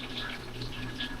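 Cold water poured steadily into a cup, a continuous close splashing gush lasting about a second.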